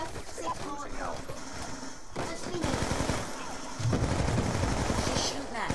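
Rapid bursts of video game gunfire in a multiplayer shooter match, dense and loud throughout, with voices talking over the shooting.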